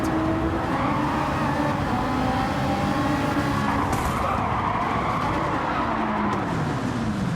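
A Nissan race car in a Gran Turismo 7 manufacturers' cup race roars at full throttle in a loud, continuous whine, with rising and falling engine pitch and tire squeals on cornering.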